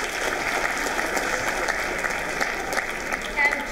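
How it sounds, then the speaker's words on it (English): An audience claps for a volunteer in a sustained round of applause, a dense patter of many hands from start to finish with a voice faintly heard beneath it. "give him a round of applause"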